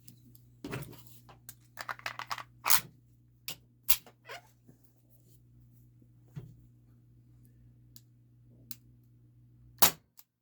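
A Beretta M84 FS 4.5mm CO2 air pistol fires several sharp, close pops spaced irregularly over a steady low hum, with quieter clicks between shots.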